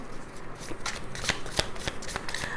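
Tarot cards shuffled close up in a steady run of crisp riffles and sharp snapping clicks, with no voice.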